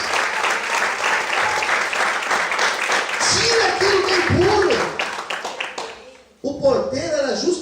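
A church congregation claps steadily for several seconds, dense and fairly loud, while voices carry over it before the applause thins out.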